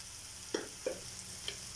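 Onion and curry leaves sautéing in a pan, a quiet steady sizzle broken by three soft spatula scrapes against the pan.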